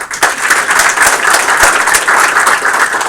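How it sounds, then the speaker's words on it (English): Sustained applause from an audience at a game studios build review, many hands clapping in a thick, even roar that holds steady throughout. "Give a round of applause."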